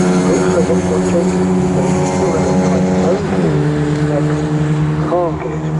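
Mini race cars circuit racing at Donington Park during a Mighty Minis Championship race, several engines droning together at steady revs, with a couple of close cars passing and shifting pitch partway through; commentary talk runs over it.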